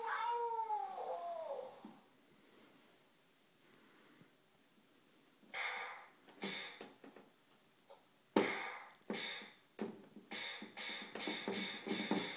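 A cat meows several times indoors, short loud calls spaced out, the first one drawn out, with quieter gaps between.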